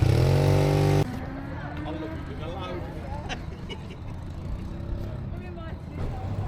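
Motorcycles, including Royal Enfields, idle and rumble at a lakeside biker cafe, with a loud engine note at the start and then a steady background drone of traffic and bikes under the chatter of nearby voices.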